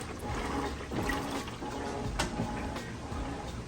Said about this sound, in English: It's doing an excellent job with that agitator, agitating those clothes and getting them very clean.